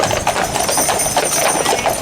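A dense, continuous patter of many horses' hooves clip-clopping on the ground at the Royal Highland Show agricultural event, fairly close and steady, with crowd noise blended underneath.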